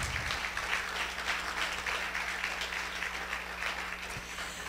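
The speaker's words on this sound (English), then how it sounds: "Round of applause." Applause from an audience at an evening business session, a steady dense wash of clapping that continues for the whole stretch without speech.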